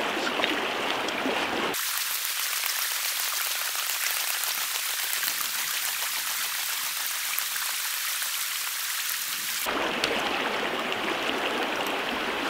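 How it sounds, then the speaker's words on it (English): A PUR (Katadyn) Hiker backpack water filter is pumped into a bottle outdoors, giving a steady hissing, rushing water flow with a rain-like texture that holds constant for several seconds between quieter stretches. "you got to hold it on there while you run the pump at the same time."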